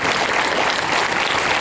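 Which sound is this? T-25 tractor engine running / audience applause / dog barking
audience applause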